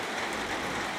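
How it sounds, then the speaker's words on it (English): Dense, steady rain hisses continuously, a close wash of droplets with no pauses. "Apologies for the noise, it's the rain outside."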